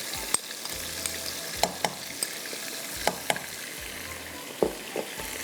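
Masala of turmeric, ground coriander, cumin powder, ginger-garlic and tomato paste fries in a pan, a soft continuous sizzle broken by repeated sharp scrapes and taps of stirring, close and alone.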